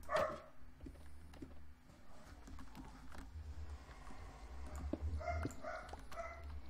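A dog barks repeatedly in short, somewhat distant bursts, with a cluster of barks near the start and more toward the end over a low steady background hum.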